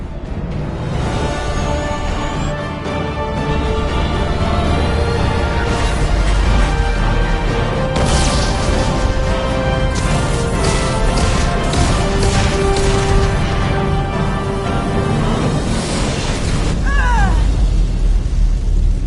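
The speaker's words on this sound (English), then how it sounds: "Damage report! Explosion in main engineering." Explosion in the engine room of a spaceship in Mass Effect 2, a loud, sustained roaring blast with crashing bursts and rumbling debris that keeps churning for nearly twenty seconds.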